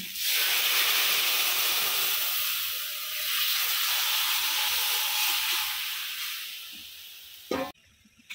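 Pumpkin stalk curry goes into a hot pan and steam hisses loudly and steadily, close up and easing slightly before a brief clatter and abrupt quiet at the end.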